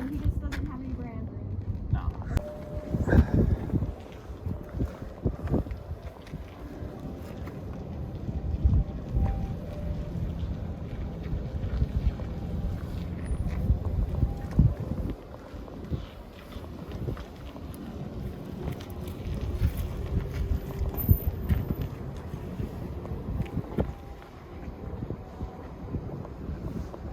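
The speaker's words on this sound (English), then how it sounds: "I'm blocking the wind, so hopefully you all don't hear it too much" Wind gusts outdoors on a Wagyu beef ranch, a constant low rumbling buffet against the microphone that rises and falls in waves for nearly half a minute, with faint voices under it.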